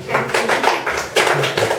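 Audience applause for a school principal at a farewell gathering, dense continuous clapping in bursts across the whole stretch, fairly loud and close, with no talk over it.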